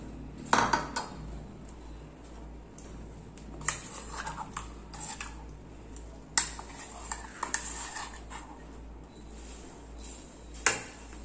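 A spoon scrapes and clinks against a metal pan and bowl as tomato mint chutney is scooped out, giving sharp intermittent taps over a quiet, steady background with no talking.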